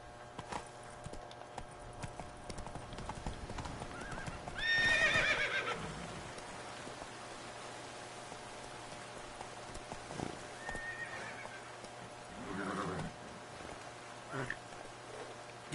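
A horse in The Witcher 3: Blood and Wine gallops with hoofbeats running underneath and gives a loud, close whinny, followed later by fainter snorts and neighs, with speech between.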